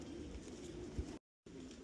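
Racing pigeons coo softly at a fly loft, a low steady murmur of bird calls with a brief thump midway and a short gap of silence near the end.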